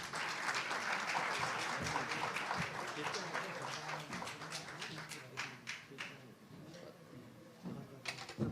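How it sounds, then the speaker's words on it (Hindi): An audience at a Capital Dialogue 2023 event applauds as the Haryana chief minister, Manohar Lal Khattar, is welcomed. Clapping is dense at first and thins into scattered claps, with some talk mixed in. "जोरदार तालियों से स्वागत करें"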